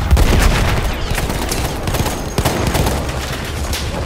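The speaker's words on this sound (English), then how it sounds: "Look out! Machine gun!" Machine gun fire in a battle, loud and close, a dense rattling fusillade of rapid shots with a few heavier bangs, continuous for the whole stretch.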